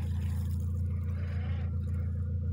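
A tractor engine under repair on a farm idles in a steady, deep rumbling drone that stays even and moderately loud the whole time, with no other clear sounds.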